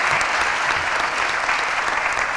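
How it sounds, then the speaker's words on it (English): Steady, dense applause from a graduation audience honoring the student graduation coordinators, loud and continuous throughout with no pauses. "Big round of applause for them."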